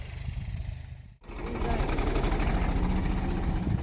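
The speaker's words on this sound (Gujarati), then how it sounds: "બીજું ટ્રેક્ટર આપણે શેણા વાવવા આવ્યું છે" A tractor engine runs steadily in a field during chickpea sowing, a continuous mid-pitched chugging drone that starts after a brief cut and stays loud and close, with faint voices before the break.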